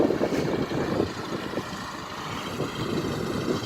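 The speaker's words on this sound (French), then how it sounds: "Et donc là on voit le tracteur qui avance doucement." A tractor creeps slowly across a rapeseed field spreading fertilizer, a low, steady engine rumble with faint rhythmic pulsing that holds at a moderate distance throughout, no voices over it.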